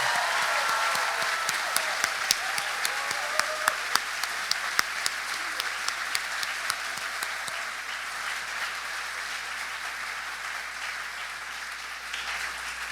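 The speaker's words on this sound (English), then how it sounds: "Give yourselves a round of applause" A large crowd at a medical school commitment ceremony applauds the incoming MD class, sustained close clapping with sharp individual claps standing out early before easing to a steadier wash.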